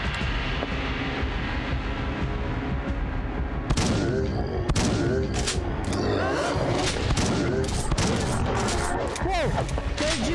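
Repeated booming shotgun blasts in an indie horror video game, several loud broadband shots from about four seconds onward over a steady rumbling game soundscape, with a voice talking at times.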